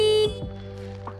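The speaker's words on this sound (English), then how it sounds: "horn, which sounds like this" A TVS-X electric scooter's horn gives a short, loud electronic tone that cuts off abruptly after a fraction of a second, heard close up with no talking.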